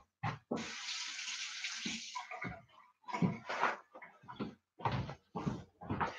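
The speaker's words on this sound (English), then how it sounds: "I rinse my hand." A hand is rinsed under a running tap in a burst of water lasting about two seconds. It is followed by short splashes and intermittent running water at close range.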